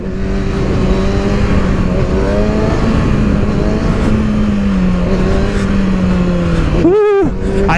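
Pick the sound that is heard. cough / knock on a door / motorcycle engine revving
motorcycle engine revving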